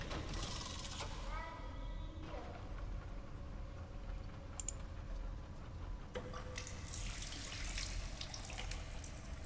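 Water running from a sink tap in the game Stasis, a steady faint stream with small clinks and mechanical noises over it, in a quiet, eerie setting.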